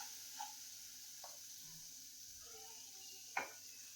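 Semolina (suji), one cup, frying in hot oil in a pan: a faint, steady sizzling hiss with a few soft clicks and a brief sharper scrape near the end.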